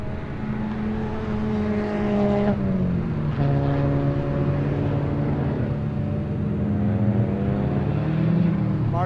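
A Fiat 500 Drivers Cup Challenge race car in GTA 5 drones through the gears, its engine note climbing, dropping at shifts and climbing again, steady and fairly loud with no speech.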